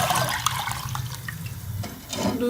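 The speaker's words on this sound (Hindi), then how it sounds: "कढ़ाई में हम दूध डाल लेंगे।" Milk poured into a wok on a kitchen stove, with a steady close liquid pour and splashing running throughout, no talk.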